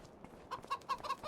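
Chickens cluck in a coop in the farming game Farming Simulator 25, with a few soft calls and then a steady string of short, evenly spaced clucks close by, with no talking.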